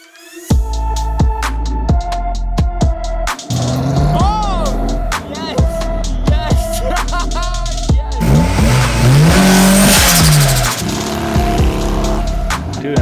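A motorized snow scooter fitted with a swapped 50cc big block engine revs in repeated sharp bursts, each blip rising and falling loudly and close by, ending in a longer, higher, sustained rev.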